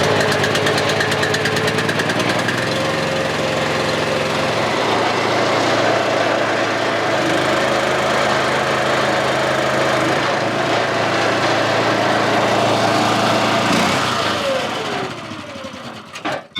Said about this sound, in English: So we've got the electric start on this. That's an option for this. Let's see, a little choke.